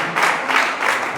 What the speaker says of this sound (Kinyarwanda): amashyi menshi ku Mana izabifashemo.